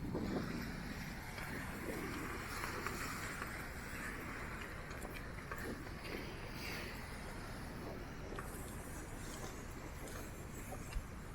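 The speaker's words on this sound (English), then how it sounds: "Alright, it's windy as hell out here." Wind gusting across a seaside jetty by the surf, a steady roaring buffet that pummels the microphone throughout, with faint wave wash underneath and no talking.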